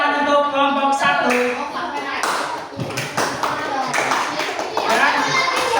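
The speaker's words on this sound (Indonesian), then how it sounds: "Ya, tepuk tangan untuk kelompok 1." Schoolchildren in a classroom applaud a group, with sharp, uneven claps mixed with children's voices and chatter, and a teacher's speech heard at the start.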